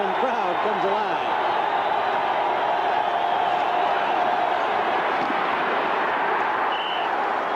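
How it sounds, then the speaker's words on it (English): A packed Metrodome crowd at a Vikings football game, a broad steady roar that fills the whole stretch, with a commentator's voice briefly over it at the start. "the Roller Dome crowd comes alive"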